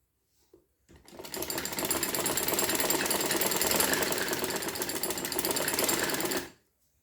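Close and alone, a sewing machine stitches the side seam of a kurti in one continuous, loud run of rapid mechanical chatter, starting abruptly and stopping cleanly.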